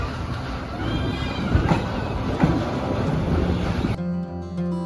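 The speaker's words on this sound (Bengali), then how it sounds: "দেখতে দেখতে সময়ও পার হয়ে গেল আর আমার ট্রেনটাও চলে আসলো।" A passenger train pulls into a railway station in Bangladesh on the Cox's Bazar to Dhaka route, a steady loud rumble of wheels and carriages with wind buffeting, then a quieter idling hum as it settles.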